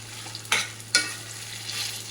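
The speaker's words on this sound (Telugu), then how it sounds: "ఈ పోపులో వేసి బాగా కలుపుకోవాలి." A spoon scrapes and stirs thick okra chutney into a spice tempering in a pan, with two distinct scraping strokes against a faint background hum.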